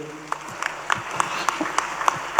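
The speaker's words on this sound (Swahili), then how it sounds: "Patia mchungaji makofi mazuri." A church congregation clapping for the pastor, a thin run of evenly spaced, rhythmic claps at moderate volume with a faint background murmur.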